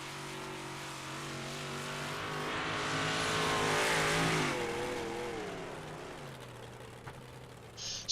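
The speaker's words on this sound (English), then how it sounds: "You can hear him working the throttle a little bit on that low side." Race car engine in iRacing at Charlotte, throttle modulated on the low side of the track; a steady, loud revving drone swells and fades as the car passes, with no talking.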